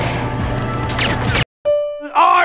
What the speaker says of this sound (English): When the door in the facility opens,